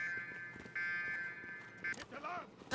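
A fire alarm buzzes steadily for about a second, stops, then gives a short second burst, loud and close, with a voice speaking briefly afterward.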